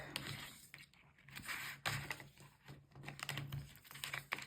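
Adhesive tape pulled and pressed down during mini album crafting with a lemon slice die, heard as close, irregular crackly taps and scrapes in short bursts with brief pauses between.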